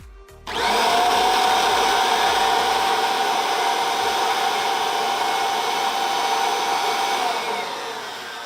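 Kirby Avalir vacuum with a zip brush attachment switches on and spins up to a loud, steady high-pitched whine, then holds close by without speech.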